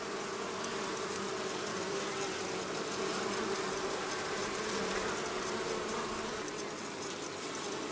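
A honey bee colony kept by a beekeeper before the first nectar flow hums in a steady, dense buzz, close and continuous with no voices.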